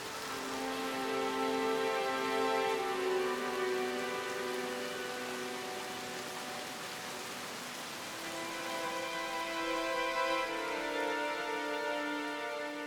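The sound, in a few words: heavy summer rain in Odaigahara forest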